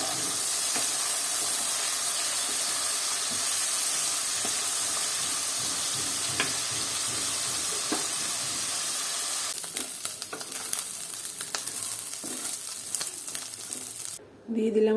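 Prawns fry in hot oil in a kadai with a loud, steady sizzle and scattered crackles. The sizzle turns rougher and more broken toward the end, as if the pan is stirred, and then cuts off briefly.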